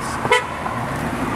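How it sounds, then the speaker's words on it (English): A car horn gives one short loud toot near the start, close by, over a steady hum of passing road traffic. "Honk your horn!"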